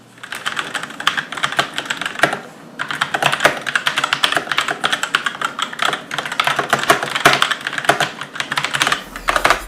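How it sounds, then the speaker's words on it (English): Rapid, steady typing on a Gamdias Hermes Lite mechanical gaming keyboard, a dense stream of close clicky keystrokes with a brief pause partway through, no voices. "here's a quick typing sample"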